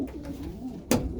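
Breeder pigeons coo softly nearby in a low, throaty murmur, followed by a louder, sharper burst of sound near the end.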